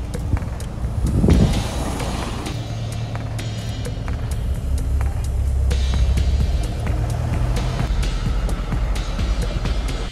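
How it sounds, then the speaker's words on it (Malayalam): Vehicles pass along the Kumily road, engines and tyres swelling loudly nearby, with one especially close pass partway through over a constant traffic rumble and no talking. "വണ്ടികളൊക്കെ ഇഷ്ടം പോലെ വരുന്നുണ്ട്"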